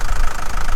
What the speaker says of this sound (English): We've turned the engine on